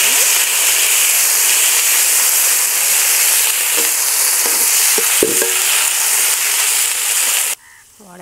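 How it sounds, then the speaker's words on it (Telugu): Tender tamarind leaves fry in hot oil, a loud, dense sizzle with a few sharp pops and stirring clicks that cuts off abruptly near the end. "లేత చింత చిగురు వేసేసి దీంట్లో వేగిపోద్ది"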